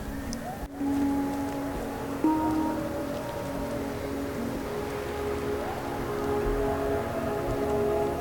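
Rain falls steadily outside a van, a constant hiss with occasional drips, under faint tonal sounds in the background, on Remembrance Day.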